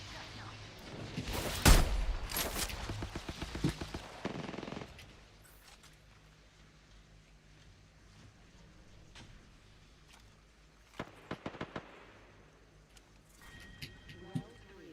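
L-Star gunfire in a video game: a burst of rapid, loud automatic shots early on, then quieter stretches broken by a few sharp later volleys.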